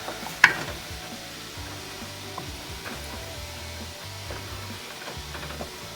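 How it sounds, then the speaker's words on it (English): Raspberry jam with melting butter being stirred in a pot on a stovetop burner, with a soft steady scraping and a faint sizzle, plus one sharp clink near the start and no talking. "I'm just going to continue stirring it and bring it to a rolling boil."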